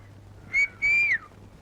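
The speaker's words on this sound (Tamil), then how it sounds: "அண்ணே, உங்களை பார்த்தா விசில் அடிக்குது" Two quick, clear whistles from a person calling to someone, a short high note followed by a longer one that slides down at the end, heard close and alone over a faint background hum.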